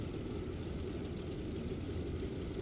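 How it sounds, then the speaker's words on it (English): Airplane engine idling on the ground in Microsoft Flight Simulator 2020, a steady, even, low droning hum with no breaks, moderately quiet throughout. "the airplane sounds really good"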